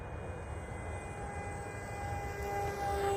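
An electric RC plane with elevons and no rudder flying overhead, a steady whining motor drone with a tone that rises and shifts as it passes, moderately distant and without speech.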